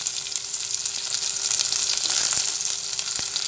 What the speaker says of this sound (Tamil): சின்ன வெங்காயம் ஆட் பண்ணிவிட்டு நல்லா வதக்கிக்கோங்க.